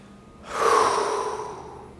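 A single deep breath taken during a yoga foot stretch for low back pain, a long soft airy exhale that swells and slowly fades, close and alone with no talk.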